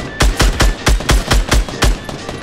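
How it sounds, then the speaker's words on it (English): Several loud, close shots in an uneven rapid string, about nine in all, ring out in a Fortnite match on Xbox One, with no talk over them. "There's somebody firing, but I don't know if it's one of ours or one of theirs"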